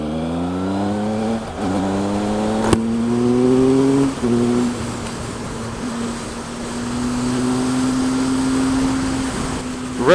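A 2016 Triumph Speed Triple 1050 R sport motorcycle engine revs up in a few rising blips, then settles into a sustained high-pitched drone, loud and close, with no talking.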